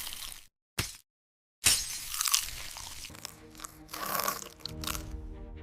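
Crisp fried chicken from a KFC production line being bitten into: a few sharp crunches separated by short silences, then a longer run of dense, crackling crunching and chewing, close and fairly loud.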